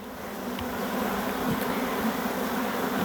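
A swarm of honeybees buzzes steadily close by, a continuous low drone that swells slightly and stays constant for about three seconds with no voices.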